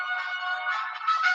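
A mobile phone rings in a short steady electronic tone, fairly loud and alone, with a slight change in pattern near the end.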